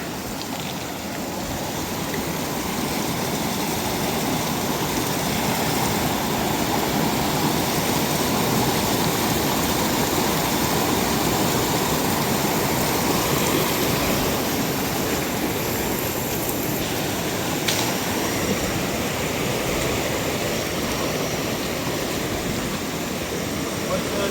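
A small river stream in Nepal flows steadily, a continuous close rushing of water with no breaks from start to end.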